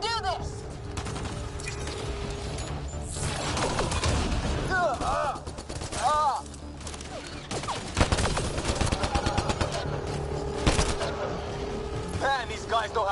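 Gunfire rattles in a firefight in Mass Effect Andromeda, repeated rapid bursts and sharp shots with mechanical clatter, loud and close, interspersed with voices shouting during combat.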